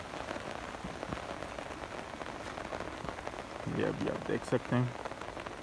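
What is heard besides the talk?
monsoon rain falling in village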